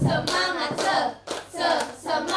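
A group claps the rhythmic tepuk semangat pattern as a classroom ice-breaker, with short bursts of hand claps mixed with group chanting in a rhythmic sequence.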